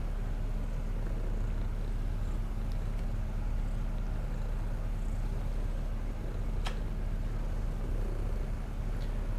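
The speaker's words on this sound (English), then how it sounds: "All the purrs." A cat in the video game Schedule 1 purrs in a low, steady, continuous rumble that is close and even throughout, with a faint click or two and no speech.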